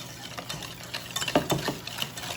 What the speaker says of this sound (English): Whisk in that egg.